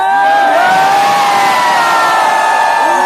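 A large crowd of fans at a Marvel fan event in India cheers and whoops loudly, a sustained roar of many voices filling the space.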